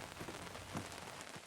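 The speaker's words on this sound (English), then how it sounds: "Rain, rain, rain." Heavy rain pours down outdoors at a hunting camp in the Santiam area, a dense steady hiss of drops hitting surfaces, moderately loud and continuous, with no talk over it.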